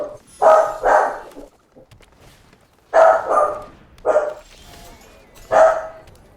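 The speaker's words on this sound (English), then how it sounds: "I'm watching a dog, so just give me 1 sec. The other one's barking." Dog barks indoors in several loud, close, paired and single woofs spaced a second or so apart, with quiet pauses in between.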